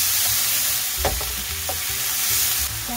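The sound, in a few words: stir-frying squid with celery and sacha sauce in a wok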